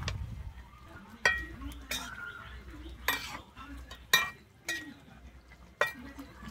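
Metal spoon stirring a bhetki fish curry with cauliflower and potato in a pan after garam masala goes in, giving a series of sharp clinks against the pan over a quiet simmering background.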